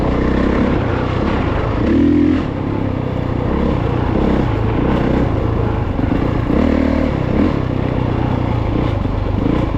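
A Honda CRF450RX dirt bike rips along dry woods trails, its engine loud and near, with a constant rumbling drone, brief rev surges and some rattling clatter.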